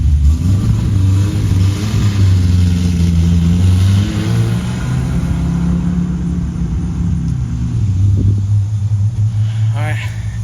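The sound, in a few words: V6 Camaro car driving off after repair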